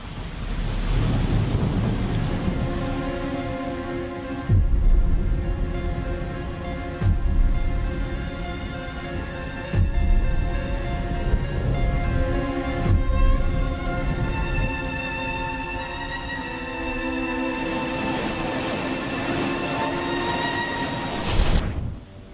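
Heavy monsoon rain falls during flooding in India as a broad, rumbling roar with thunder-like swells, mixed beneath a prominent, dramatic sustained music bed for the full stretch.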